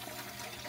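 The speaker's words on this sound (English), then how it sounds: "I'm getting water in my Polar Pop cup" Water runs into a Polar Pop cup in a brief, steady gushing splash of filling liquid, close and moderately quiet, lasting under a second.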